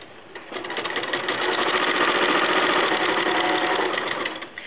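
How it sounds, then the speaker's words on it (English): A sewing machine stitching down quilt binding runs in one continuous close, loud burst, its rapid needle rhythm building up after a brief start and holding steady to the end, with no voices. "Now I'll continue sewing this down, doing my other corners"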